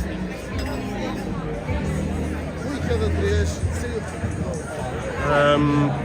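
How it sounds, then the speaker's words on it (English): Night crowd chatter in a busy street in Porto's Ribeira and Cedofeita nightlife area, a steady hubbub of many voices nearby with occasional clinks, growing slightly livelier toward the end. "So we are going a bit now in the crowd."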